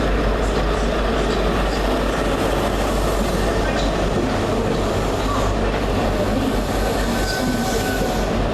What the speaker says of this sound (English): train now approaching platform 3 is the 10:48 First Great Western service